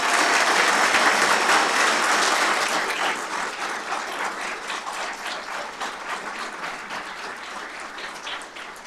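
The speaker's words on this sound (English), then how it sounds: "Let's have another round of applause for all of tonight's award recipients" An audience at a fire and rescue services awards ceremony gives a full round of applause for the award recipients, loud and dense at first, then gradually easing off while still continuing.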